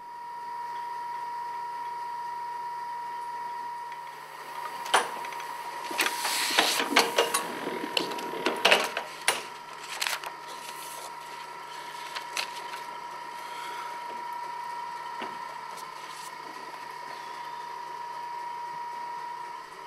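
A letterpress printing press runs in a print studio with a steady mechanical hum, overlaid midway by a cluster of clattering, ratcheting knocks and clicks before settling back to the even drone.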